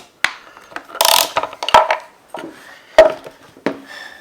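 A PEX clamp tool works a clamp onto piping, giving close metallic clicks, rattles and a scraping rasp, irregular and fairly loud with short pauses between handling noises.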